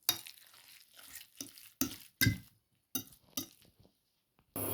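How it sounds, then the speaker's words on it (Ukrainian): A spoon scrapes and stirs a thick mixture of eggs, bread and green garlic in a bowl in several short, uneven bursts separated by brief pauses, close up. "І ще раз ретельно вимішуємо"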